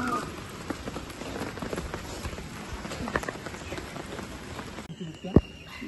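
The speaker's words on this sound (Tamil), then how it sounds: "தம் போட்டோம், நல்ல மழை பெய்யுது." Heavy rain pours down during outdoor biryani cooking, a dense, steady patter on surfaces that drops away abruptly near the end, followed by a sharp knock.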